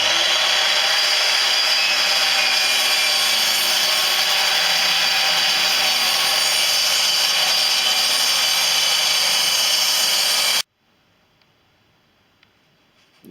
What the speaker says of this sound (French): je vais débiter à l'aide de ma scie radiale